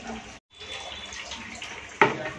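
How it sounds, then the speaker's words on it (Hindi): Water splashes steadily as it is poured onto a plant at home, a continuous close wash of sound with a brief break and a sharper splash near the end. "पहले पानी डाल के रखते हैं पेड़ में"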